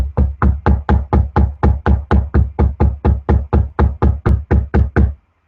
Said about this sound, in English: My knuckles on wood.